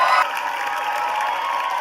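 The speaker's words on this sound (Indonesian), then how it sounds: "Tepuk tangan sekali lagi dong buat mereka dong." Audience at an Indonesian televised dance competition claps and cheers steadily, with a louder swell at the start settling into sustained applause and crowd noise.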